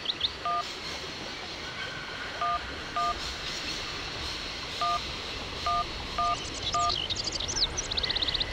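A cell phone number is dialed in the video game Syberia: a series of short, clear touch-tone beeps in an irregular rhythm over a low rumbling background, with chirping electronic tones near the end.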